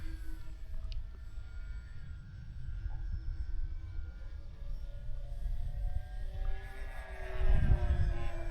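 A 3D-printed twin-propeller model plane on its maiden flight drones steadily with propeller hum and a rising engine tone, swelling louder near the end as it passes close.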